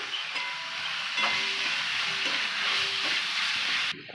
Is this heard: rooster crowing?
no